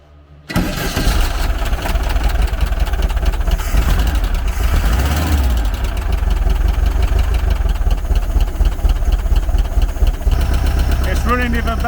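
VW Type 4 2.0-litre engine with a Solex Empi PICT3 carburettor cranks and catches within the first second, then settles into a steady, loud, slightly uneven idle that runs to the end.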